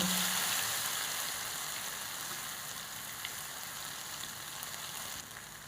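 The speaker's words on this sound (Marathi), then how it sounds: "आता आपली फोडणी उडाली" Steady crackling sizzle of hot oil with cumin seeds tempering in a pan, continuous and fairly even in loudness, with no talking.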